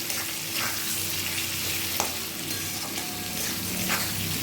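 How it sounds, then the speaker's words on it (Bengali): Potatoes and onions frying in oil in a pan, a steady close sizzle with occasional scrapes and stirring clinks, no talk over it. "পেঁয়াজটা আর আলুটা একটু ভাজা হোক"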